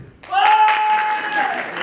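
A comedy show audience on a French business school campus bursts into applause, a dense, loud clatter of many hands that starts abruptly and holds steady for under two seconds, with a voice briefly over it.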